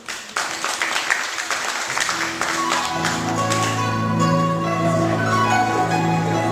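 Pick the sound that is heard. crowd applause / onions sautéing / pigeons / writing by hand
crowd applause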